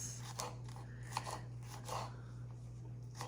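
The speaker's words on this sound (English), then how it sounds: "And now I'm going to dice it like this" Okra being diced with a knife on a cutting board, making a few soft, irregular crisp cuts and taps, close and quiet over a steady low hum.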